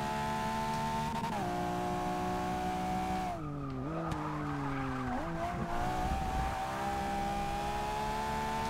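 Race car in Forza Motorsport 6 holding a steady high engine drone, with pitch dips and recoveries through gear changes and braking, brief tire squeal in the middle, and no talk.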